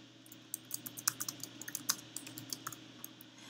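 Fingers type on a computer keyboard in a quick, uneven run of close, crisp key clicks over a low steady hum, with no talking.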